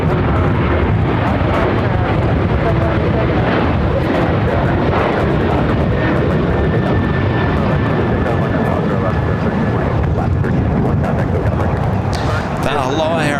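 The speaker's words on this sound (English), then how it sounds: "That Aloha Air Cargo crossing over us" Loud, steady jet roar of an Aloha Air Cargo aircraft crossing overhead at Los Angeles airport, a continuous broadband rumble that holds for the whole stretch beneath people talking.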